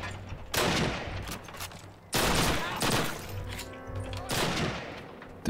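Gunfire in a Call of Duty campaign mission, several sharp bursts and rattling volleys at intervals, with a voice speaking between shots.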